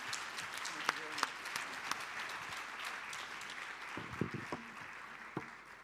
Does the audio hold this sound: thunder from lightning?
no